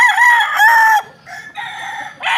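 Purebred Golden Boy gamefowl rooster crowing close and loud in one long call with a pause, then a second shorter crow starting, with no talk.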